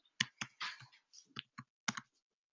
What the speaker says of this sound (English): Let me type that in there.